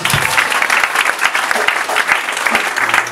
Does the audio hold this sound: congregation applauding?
yes